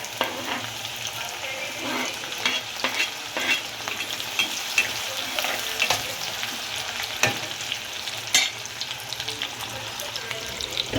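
Green chillies frying in hot oil in a pan for shapu bhaji, a steady crackling sizzle with occasional sharper pops and stirring scrapes, close and continuous.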